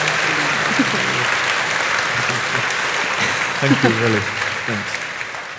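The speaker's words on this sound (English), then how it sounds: "Round of applause." A theatre audience at a talk with an author claps in sustained, dense applause throughout, while a voice briefly speaks thanks over the clapping.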